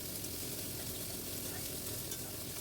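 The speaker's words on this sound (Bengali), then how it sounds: "আমি আমার পরিমাণ মতো ডাল নিয়ে কড়াইতে নেড়ে নিলাম শুকনো" Unwashed mung dal is dry-roasted and stirred in a hot, dry wok, giving a dense, steady rustling hiss with faint grainy scraping, close but fairly quiet and without pause.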